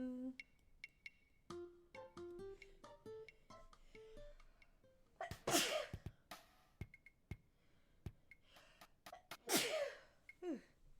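A person sneezes twice, each sneeze a sharp loud burst, amid sparse clicking and soft background tones.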